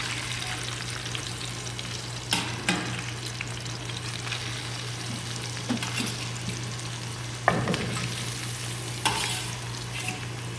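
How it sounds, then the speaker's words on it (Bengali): Hilsa fish fry in a pan with a steady, loud sizzle, a low hum running beneath and occasional sharp crackles and clinks as pieces are stirred. "আমার অর্ধেক মাছ ভাজা হয়ে গেছে, বাকিগুলো আবার দিয়ে দিব।"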